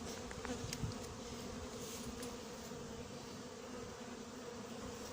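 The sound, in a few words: hornets buzzing around beehives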